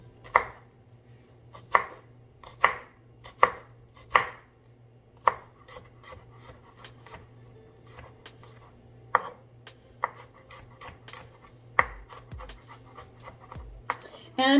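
A knife chopping garlic and onions on a board: a series of crisp, sharp chops, first in a quick regular run, then sparser and softer, over a low steady hum.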